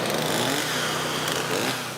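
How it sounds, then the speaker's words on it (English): Chainsaws and generators run during a storm relief cleanup in Florida, a steady buzzing engine drone with a slight rise and fall, moderately close and continuous. "Chainsaws and generators give a soundtrack to the relief effort the morning after."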